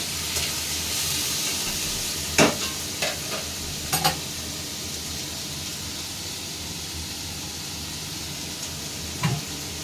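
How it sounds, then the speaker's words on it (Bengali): Potatoes frying in ghee in a pan, a steady soft sizzle and hiss throughout, with a few sharper pops and stirring clinks scattered across it; moderately quiet and close, no voices. "আলুটা আমি লাল লাল করে ভেজে নেবো। একটু ঘি দিলে টেস্টটা বাড়ে।"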